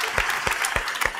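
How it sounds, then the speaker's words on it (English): A church congregation applauds at an Easter Vigil service, with a burst of clapping and distinct sharp claps standing out over a steady patter from the crowd. "So let's give all of our wonderful volunteers,"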